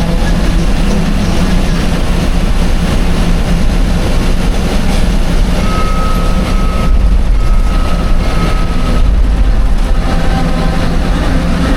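Steady rumbling of a train at Tiruchirappalli Junction railway station, with a continuous low drone and a faint sustained whine, no voices.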